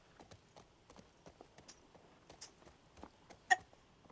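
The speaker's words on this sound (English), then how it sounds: "Did you see that horse go down the stairs?" Horse hooves clopping down a staircase in the video game The Last of Us, a rapid uneven series of light knocks with one sharper louder hit near the end, fairly quiet and alone.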